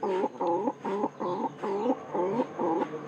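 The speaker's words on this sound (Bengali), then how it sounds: "তো অবশ্যই আপনারা দেখতে পাচ্ছেন যে কবুতরের ডাকটা কিরকম" A Hali-type pigeon calling indoors, a close series of about seven rhythmic, throaty cooing bursts in quick succession with no talking.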